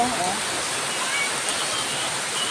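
Heavy rain falls steadily during a thunderstorm on a farm where turkeys shelter under a roof, a dense, constant wash of noise close by with no breaks across the clip.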